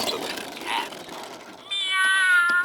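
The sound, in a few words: See 'N Say toy playing a cat meow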